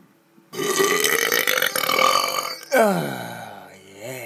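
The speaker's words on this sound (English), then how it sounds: "You're getting your burping, that's for sure." Long, loud belch in Skyrim, one sustained guttural burp stretching about two seconds, then a second rising croaky burp that trails off in gurgling tones.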